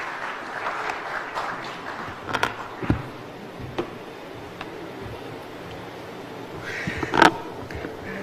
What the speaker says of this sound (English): another round of applause for Opoku.